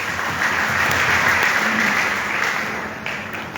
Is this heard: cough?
no